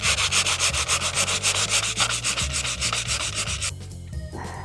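Steady rhythmic hand sanding of an antique sewing machine, repeated back-and-forth rubbing strokes close up, stopping near the end with a few quieter scrapes.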